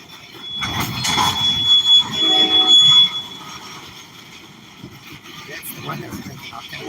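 A locomotive passes at a railway yard, its rumble and squealing wheels loudest early on before easing to a steadier, fainter roll.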